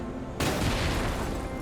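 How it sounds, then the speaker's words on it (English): Gunfire in the video game Lies of P breaks in abruptly after a brief quieter moment, then continues as a loud, sustained burst of overlapping shots. "I'm gonna shoot you with my gun first"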